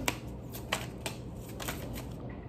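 Advice cards are shuffled in a close, quiet riffle of soft papery flicks and taps, steady and unhurried, with no talk over it.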